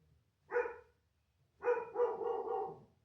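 A dog barks at a house, giving one short bark and then a rapid burst of several more, close and fairly loud in a quiet room.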